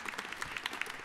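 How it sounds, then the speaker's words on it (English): A short, fairly faint burst of clapping from a church congregation during a sermon service, scattered claps with no talk over them. "A round of applause for our Pastor Taylor."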